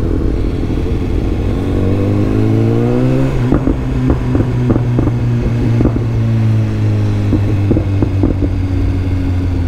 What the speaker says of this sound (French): J'aime trop comment elle pète cette petite moto là.